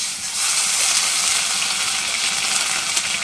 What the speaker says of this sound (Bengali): এখন পেঁয়াজ বাটা দিয়ে দিই।